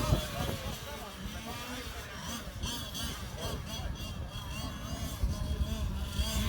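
Mecatech FW01 RC cars race on a windy track, small engines buzzing and whining as they pass, with heavy wind buffeting the microphone and people talking over the noise.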